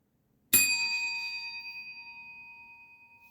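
A single bright bell ding strikes once and rings on with a long, slowly fading sustain, alone in an otherwise quiet space.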